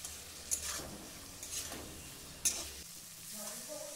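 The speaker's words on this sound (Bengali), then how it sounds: "মিশিয়ে ভালো করে কষিয়ে নেব।" Fried pointed gourd is stirred into spice paste in a pan, a soft sizzle broken by a few sharp spatula scrapes and clacks against the metal, fairly quiet and close.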